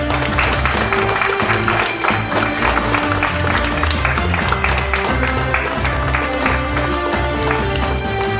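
An audience at a library opening in Komenda claps in sustained, dense applause that stays loud and continuous throughout, with scattered crowd noise.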